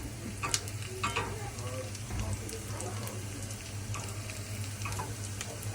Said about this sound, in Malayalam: ഇവിടെ കടുക് വറുക്കുന്നത്